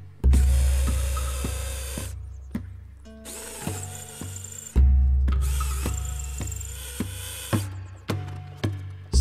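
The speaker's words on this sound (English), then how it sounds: "I clamped it in the vise, I drilled a nice wide, nice deep pilot hole" Power drill boring a pilot hole into ox horn clamped in a vise: loud, close whirring runs that start, wind down and restart, with several shorter bursts near the end.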